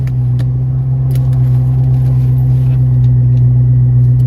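A Kenne Bell supercharged Cobra engine running on E85 idles with a steady, deep, loud rumble, and faint clicks tick over the smooth drone.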